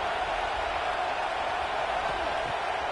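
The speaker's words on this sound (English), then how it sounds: "Listen to this crowd just shaking the girders of this place," Stadium crowd roars in the College Football 26 video game during a UCLA Bruins at USC Trojans game, a dense, steady wash of cheering noise throughout.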